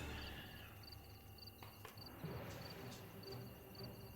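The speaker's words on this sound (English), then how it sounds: "I don't know why there are crickets underwater" Crickets chirp steadily in a Sirenscape ambient soundscape meant to evoke an underwater gorge, with regular high trills repeating over a low background hum and a few soft knocks.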